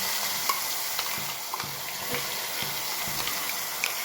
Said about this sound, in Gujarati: જીરું થઈ જાય એટલે હિંગ, જે ગ્રેવી કરી હતી આજે એ એડ કરી દઈએ.